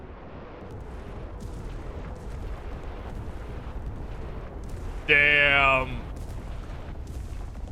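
Artillery ranging shots explode in the World War II shooter game Enlisted, a short, loud burst standing out over a quieter battlefield background, with someone speaking briefly.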